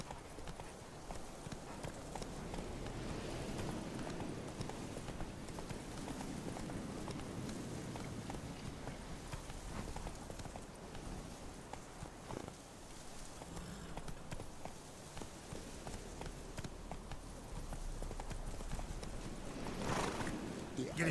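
Horse hooves clip-clopping at a gallop in The Witcher 3: Wild Hunt, a continuous fast rhythm under faint game ambience with occasional soft voice, fairly quiet overall.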